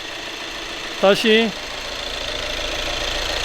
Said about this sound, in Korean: 이렇게 엔진 쪽으로 급유를 해서 순환 방식으로 약 10분 정도 시동을 걸어 놓습니다.